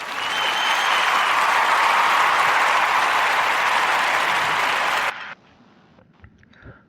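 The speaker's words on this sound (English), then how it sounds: "let's give a warm narrative round of applause for Rappers Delights" Warm round of applause from a podcast audience, a dense steady wash of many hands clapping for about five seconds before cutting off abruptly into near silence.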